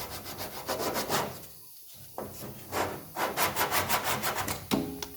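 Sandpaper is worked by hand over filler on a 1969 B-body car, giving rhythmic, close scratchy strokes in quick bursts with one short pause partway through, and no talking.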